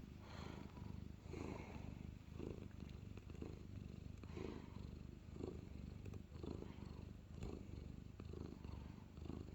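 A cat purring steadily up close, a continuous low rumbling rhythm of soft pulses, alone without talk.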